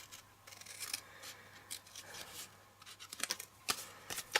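Scissors snipping through paper along a fold while making a tiny keepsake craft, several quiet close cuts and rustles coming in short irregular clusters without talk.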